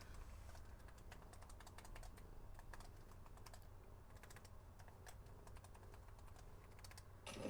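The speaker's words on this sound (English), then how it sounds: "Because you're sitting on my keyboard." A cat sitting on a computer keyboard, pressing keys in uneven bursts of soft clicking and clacking at close range, with gaps between clusters and no voices.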